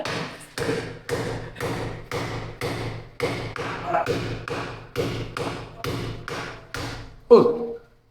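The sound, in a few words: pounding with a hammer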